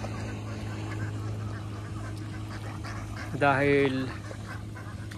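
Domestic ducks being moved into their carrier give a short burst of loud, nasal quacking near the end, over a steady low hum, with someone talking earlier in the scene.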